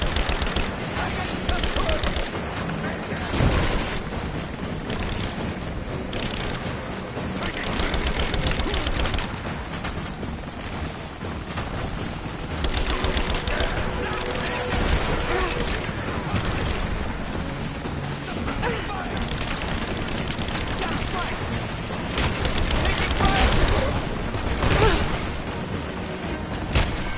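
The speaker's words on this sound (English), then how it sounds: "I'm under fire! Give me covering fire!" Firefight in Rise of the Tomb Raider: dense bursts of rapid gunfire, sharp cracks and heavy impacts tumbling over one another continuously, with loud surges and short lulls, and voices faintly among the shooting.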